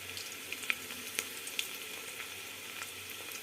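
Ginger garlic paste frying in oil with onions and curry leaves gives a soft, steady sizzle with scattered faint crackles and pops, quiet and close, with no talking.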